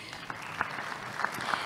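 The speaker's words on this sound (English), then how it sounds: "Let's give her a round of applause, please." A short burst of audience applause at a conference session on food systems and finance, even crowd clapping with a few sharper claps standing out, lasting under two seconds.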